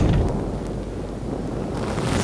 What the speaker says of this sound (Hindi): वहाँ बहुत जोर की आंधी है